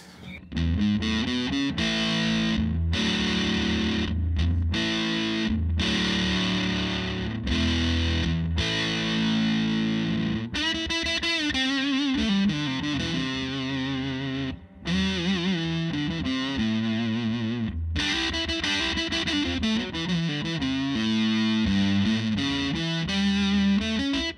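Heavily distorted electric guitar through a Way Huge Swollen Pickle pedal plays sustained chords and riffs, loud and continuous, with a brief dip midway before the crunchy tone returns.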